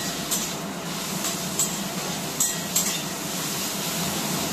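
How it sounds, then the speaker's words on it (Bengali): Garlic paste and onion frying together in a pan for bitter gourd dal, a steady soft sizzle running throughout with a few faint clinks of a stirring utensil. "রসুনটাকেও আমি আরো লাল করে নেব একটু"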